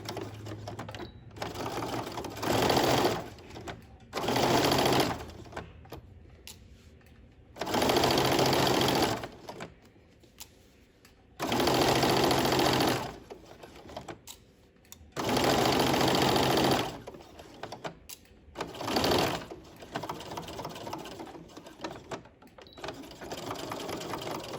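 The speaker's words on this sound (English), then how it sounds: "line up the end of my pocket bag with that 1/2 inch marking. And then we're gonna stitch that together" A sewing machine stitches a pocket bag in bursts of steady, fast mechanical whirring, six or seven runs of a few seconds each separated by quiet pauses, fairly soft and close.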